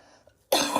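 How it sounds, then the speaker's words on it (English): One sharp, loud cough bursts out suddenly after half a second of near silence, close to the microphone. "I'm still coughing."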